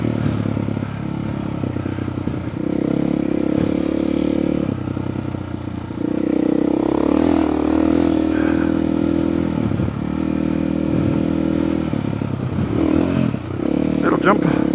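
An off-road vehicle runs along an ATV trail at the Cline Butte OHV area, its loud, close engine droning and surging in repeated waves with rattles and scrapes from the rough ground.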